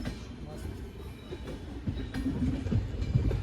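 Train at Kota railway station, a low rumbling of moving rail cars with faint wheel clatter, moderately quiet, with people talking over it.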